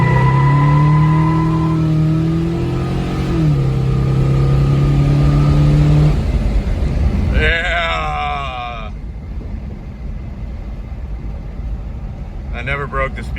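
Ford Torino engine pulling hard at full throttle on a road in Mexico, a loud droning rev rising and shifting in pitch, then easing off into a steadier rumble as the car cruises, heard from inside the car.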